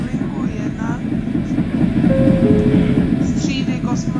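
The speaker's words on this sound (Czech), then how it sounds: "ze hry Sim Simulator MHD, ve které jedeme tramvají" A tram on line 1 runs in the SIMT Sim Simulator MHD game, giving a steady rumbling roll with faint rail clatter and a brief high tone partway through.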